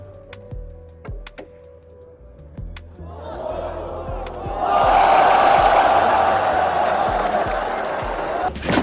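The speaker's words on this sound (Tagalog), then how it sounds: "Hiyawan talaga ang mga madlang people sa Vietnam sa galing ng ating legend." Sharp billiard ball clicks sound at first, then a crowd at the Hanoi Open 2023 billiards tournament erupts into loud, sustained cheering and shouting that swells and holds to the end.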